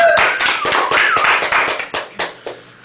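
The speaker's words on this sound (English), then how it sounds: "Let's please give Alex a round of applause." Applause at a popcorn knighting ceremony: a small group claps in quick, loud bursts that thin out toward the end into a few separate slaps.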